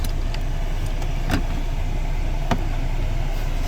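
A used Chevy with 180,000 miles, its engine running: a steady, close, low idle rumble that holds even throughout, with a couple of faint knocks on top and no talking.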